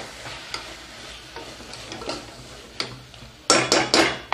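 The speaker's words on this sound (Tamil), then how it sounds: "இதை நல்லா கொஞ்சம் கிண்டி விட்டுக்கோங்க." Capsicum gravy masala stirred in a pan, a spoon scraping and tapping the metal with soft sizzling underneath, ending in a few louder, quick clanks.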